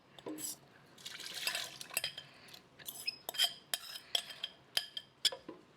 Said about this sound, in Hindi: ब्लेंडर में सबसे पहले हम डालेंगे ठंडाई का पूरा लिक्विड।